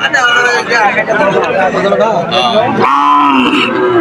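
A local native-breed cow moos loudly and close by at the Dhara Bazar cattle market, a long low call rising near the end, over a busy crowd of chattering voices.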